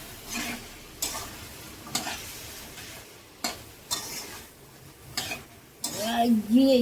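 Mung dal is being stir-fried in a wok with spices for a bottle gourd greens dish. A spatula scrapes in a regular rhythm, about once a second, over a soft background sizzle at close range, and a voice comes in at the end.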